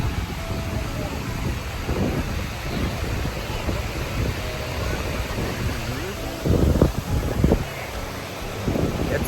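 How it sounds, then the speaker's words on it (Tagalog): Wind gusts buffet a windy beach, a steady broadband rush with faint surf beneath and a few louder gusts toward the end, with brief voices in the background. "It's a windy day."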